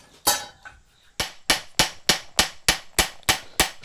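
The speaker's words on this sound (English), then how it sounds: "So what we're doing here is called planishing." A hammer planishes a forged metal tasting spoon: sharp, ringing strikes, one early blow then a steady run of about nine evenly spaced hits, close and loud.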